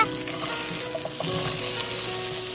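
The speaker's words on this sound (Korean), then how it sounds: "팬에 식용유, 들기름을 넣고 중불로 켜고 달궈진 후라이팬에 건져놓은 감자를 넣어줍니다" Potatoes frying in a heated pan with cooking oil and perilla oil over medium heat, a steady close sizzle with a soft hiss throughout and a few faint scrapes.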